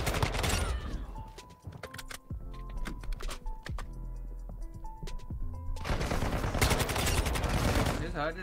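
Rapid automatic gunfire from the Kastov 74u rifle in Warzone Mobile multiplayer, loud sustained bursts opening and closing the stretch with scattered single shots and clicks between, close and dense.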